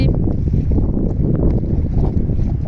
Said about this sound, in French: Le vent est vraiment très très fort. Je pense que vous devez l'entendre de toute façon dans la vidéo.